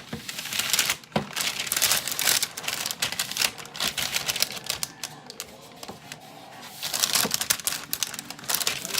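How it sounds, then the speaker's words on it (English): Wax paper crinkles and rustles continuously as it is laid onto a greased 15 by 10 inch cookie sheet for pumpkin rolls, with bursts of louder crackling at the start and end. "Put the wax paper on the cookie sheet."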